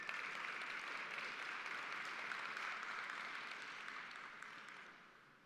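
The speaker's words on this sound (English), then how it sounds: "Oh yeah, you can clap." Steady crowd applause fills a fire department awards and retirement banquet in Louisville, a dense, even clapping from a large audience that holds strong and then gradually fades toward the end.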